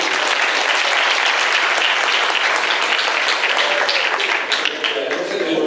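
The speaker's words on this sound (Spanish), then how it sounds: "vamos a dar un aplauso a la doctora Omar por esa noticia" A large audience applauds a doctor at a conference session with loud, dense and continuous clapping that holds steady for several seconds, with faint voices mixed into the crowd noise.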